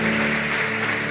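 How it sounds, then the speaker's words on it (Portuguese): Congregation applauding in a church service, a dense continuous wash of clapping heard briefly and fairly loud, with steady tonal background sound underneath. "Dê um aplauso a Jesus."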